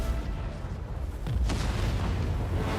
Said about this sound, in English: Exploded like a nuke. Just blew up.